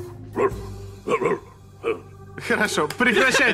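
A voice imitates a dog barking, giving a few short separate woofs before a burst of quicker yaps, close and fairly loud, with no real dog present.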